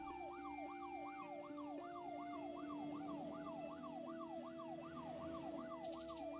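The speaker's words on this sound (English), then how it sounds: "The ambulance has arrived." An ambulance siren in the game Troubleshooter wails with a rapid, regular rising-and-falling sweep, repeating steadily throughout at a moderate distance, with a faint hiss at the very end.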